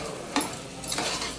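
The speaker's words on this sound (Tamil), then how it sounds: "உப்பு தேவையான அளவு போட்டுக்குங்க. போட்டு நல்லா கிண்டிக்குங்க." Soaked rice with salt is stirred in a pot for mushroom biryani, giving two brief scraping strokes over a steady hiss of cooking, close by and without speech.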